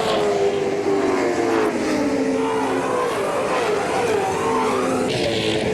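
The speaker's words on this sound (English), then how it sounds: "that's what the view looks like from the roof of Johnson's Shell Falcon" A 1993 Shell Ford Falcon touring car races on a track, heard from a roof-mounted camera: a loud, continuous engine drone whose pitch falls and climbs through gear changes, with steady wind rush throughout.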